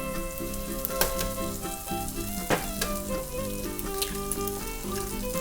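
Chorizo and tomatoes fry in a hot pan, with a continuous bright crackling sizzle, close and steady, and a few sharper pops and spatters throughout.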